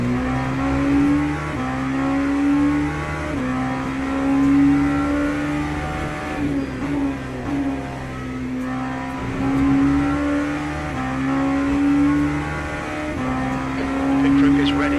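A race car engine drones through a Le Mans qualifying lap in the Le Mans Ultimate racing game, a steady loud tone rising and falling with gear changes and throttle, with no talking over it.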